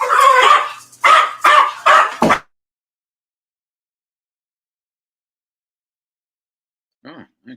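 A dog gives a run of five loud, close barks in quick succession, then falls silent; two fainter, higher yips follow much later.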